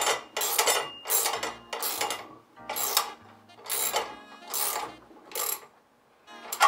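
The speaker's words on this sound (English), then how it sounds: "wrench and socket or combination. And it will be snug if you're trying to tighten it up." A socket wrench ratchets while tightening a bolt on a trailer bumper hook, giving a steady series of about seven crisp clicking bursts, close and alone at moderate level.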